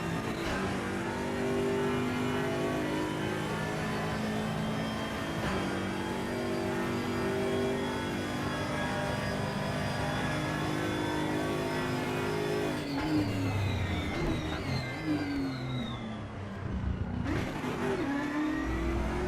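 A simulated race car in RaceRoom drones steadily at high revs, the engine note sagging and faltering as it bogs down near the end, with tire and engine sounds shifting through a corner.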